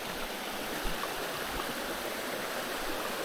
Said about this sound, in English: So this is the Robinson River.